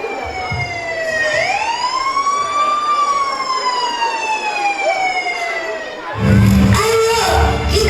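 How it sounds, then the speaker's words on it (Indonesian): A loud, wailing ambulance siren sweeps up and down over a crowd murmur in a staged school performance about Palestine, ending in a rumbling crash. "Tak berhenti suara ambulan berbunyi"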